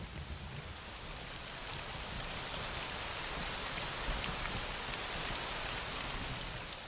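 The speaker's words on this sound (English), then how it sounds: "In late summer, the Velkafatra and Malafatra mountains are frequently lashed by rain and thunderstorms." Steady, dense rain hisses without a break across the Veľká Fatra and Malá Fatra mountains in late summer, an even wash of drops close around with no voices or distinct thunder.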